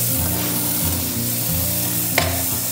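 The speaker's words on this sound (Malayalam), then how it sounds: "ലോ ഫ്ലെയിമിൽ ഇട്ടിട്ട് കുറച്ച് ബട്ടർ അതിലിട്ട് ഇട്ട് കൊടുക്കാം" Butter melting over a low flame in a hot pan while making milk candy, with a steady, close frying sizzle and faint stirring scrapes that run throughout and no voices.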